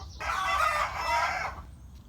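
Hens clucking and squawking in a noisy burst at close range, one sustained raucous call lasting over a second against a quiet farmyard background.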